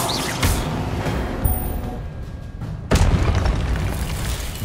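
Spell explosions go off in the Hogwarts Legacy video game during combat: a sequence of loud, booming bursts, with a sharp blast near the middle and another heavy burst later, over a continuous rumbling battle backdrop.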